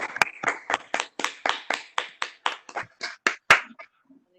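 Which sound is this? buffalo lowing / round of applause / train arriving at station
round of applause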